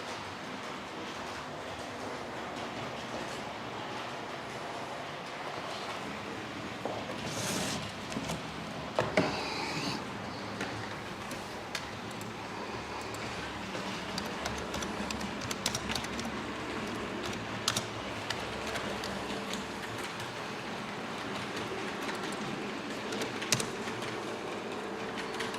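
Class 141 model railway locomotive running on its track toward the camera, a faint continuous rolling rumble with occasional small clicks and knocks, alone without speech.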